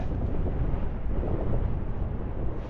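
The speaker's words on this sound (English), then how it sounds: "that wind's really picked up now and it's changed direction as well" Strong wind blowing outdoors at a lakeside wild camp above England's deepest lake, a continuous low roaring rumble and buffeting against the microphone, steady and loud, with no voices.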